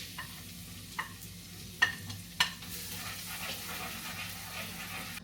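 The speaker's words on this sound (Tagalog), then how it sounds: "Tapos may ipiprito." Food frying in a pan while cabbage is being sautéed, a steady soft sizzle with a few sharp clanks of stirring utensils, close and fairly quiet.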